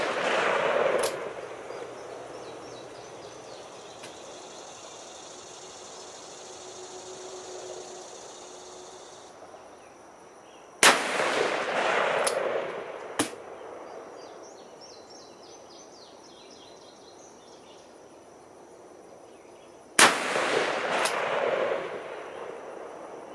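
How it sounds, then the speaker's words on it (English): Two loud, sharp gunshots from a Taurus Raging Hunter .454 Casull revolver at an outdoor range, spaced about ten seconds apart, each with a ringing decay over quiet ambient background. "I'm shooting"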